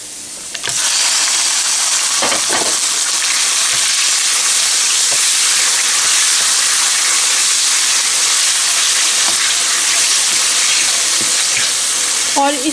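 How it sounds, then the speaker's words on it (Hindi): Chicken sizzles loudly in hot oil with chopped garlic in a pan, cooking for chicken jalfrezi; a steady, dense frying hiss runs throughout with occasional stirring clinks, no talking. "लहसुन सौते हो जाए तो उसमें चिकन ऐड कर दें।"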